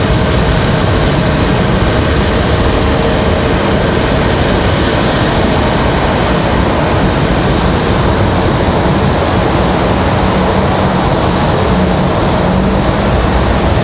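A Copa airliner taxis into the alleyway at Raleigh-Durham International Airport, heard as a loud, constant jet engine roar and rushing noise that holds steady throughout with no talk.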